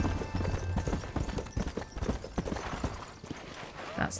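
Steady clip-clop of hooves from horses trotting in Red Dead Redemption, fairly close, with a low rumble underneath and a brief brighter sound near the end.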